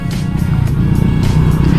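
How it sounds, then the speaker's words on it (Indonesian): A 2017 Honda Vario 125 eSP scooter on a test ride, its small engine droning close and loud with a steady buzzing tone that rises slightly, over a short stretch of riding. "Ya, kita coba tes ride motornya ya."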